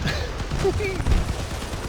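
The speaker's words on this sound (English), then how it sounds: "Double cannon. Got blown to pieces." Double cannon fire and an explosion in the vehicle-combat game Crossout: a dense, continuous barrage of loud gunfire and blasts, with a voice talking over it.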